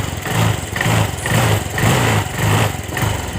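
A Honda Vario scooter engine with a fault that hesitates at higher revs runs close by, a steady buzzing idle that swells and dips in regular pulses roughly every half second, loud and without voices.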